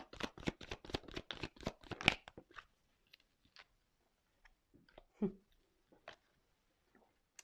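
Tarot cards are riffled rapidly for about two seconds, making a quick run of crisp flicks, then give a few scattered soft taps and slides as they are handled in a quiet room.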